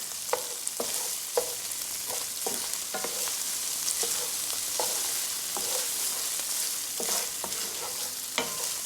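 Beef and darkening garlic fry over raised heat in a pan, a steady close sizzle broken by repeated scraping and clinking strokes from stirring throughout.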